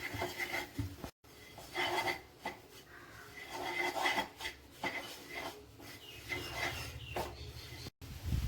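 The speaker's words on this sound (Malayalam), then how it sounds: "കുറച്ച് കറുത്ത എള്ളും കൂടെ ചേർത്ത് കൊടുക്കും എന്നിട്ട് എല്ലാം കൂടെ നന്നായിട്ടൊന്ന് മിക്സ് ചെയ്തെടുക്കാം" Rice flour and black sesame seeds being mixed by hand in a bowl, a soft continuous rubbing and rasping with brief pauses, close and fairly quiet, no voices.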